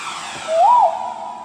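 An electronic keyboard sound effect imitating a bang fai rocket: a whistling tone swells and bends up then down over a steady hissing rush, loud and close.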